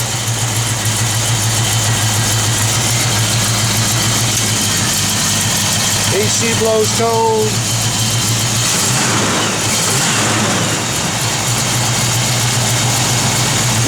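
A 1969 Pontiac Firebird convertible idles with a mild cam lope, a steady close rumble throughout, briefly overlaid by a short burst of higher-pitched whine and a brief spoken remark midway.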